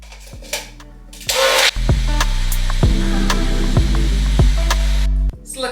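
A blender whirs through thick, three-ingredient gluten-free high-protein pancake batter, a loud steady motor drone that starts abruptly, runs for about four seconds with faint knocks over it, then cuts off.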